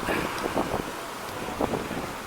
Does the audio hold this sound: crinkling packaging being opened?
no